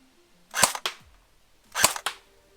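An airsoft AK47 Cybergun AEG fires single shots outdoors: two sharp, loud cracks, each with a short mechanical clack right after it, spaced about a second apart over near-silence.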